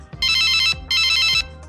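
A telephone rings in two long bursts of a bright electronic trill with a short gap between them, loud and close, with no voices over it.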